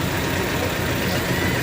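A vehicle engine running steadily at a toll plaza on the road from Gumla to Ranchi, a constant dense rumble with no clear changes, close and fairly loud.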